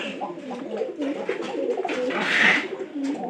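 A pigeon in its nest box coos in low, rolling phrases, close by, with voices talking over it.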